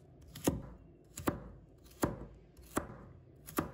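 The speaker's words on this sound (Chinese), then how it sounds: "再切成1厘米左右的小丁。" A knife dices vegetables into roughly 1 cm cubes for a one-pot curry rice, with five crisp chops striking a cutting board at an even, unhurried pace, close and clear with no talking.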